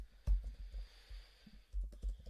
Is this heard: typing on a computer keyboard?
yes